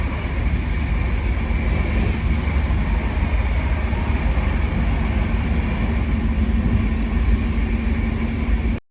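Recorded from inside a moving train in India, a loud steady rumble of wheels on track carries on throughout with a constant low drone and a brief high hiss partway through. No one speaks.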